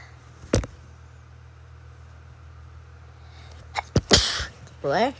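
A single sharp human sneeze bursts out early, followed by more sneezes and a short burst of voice near the end over a quiet room hum.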